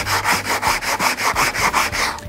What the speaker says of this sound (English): if I go back to the coarse sandpaper, okay, going in this direction